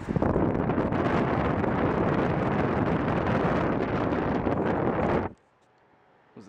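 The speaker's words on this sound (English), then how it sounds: "Let's see what this fan sounds like when I put the camera in front of it." An electric fan blows straight into the microphone, making a loud, rushing wind roar that lasts about five seconds and then stops suddenly, leaving near-silence.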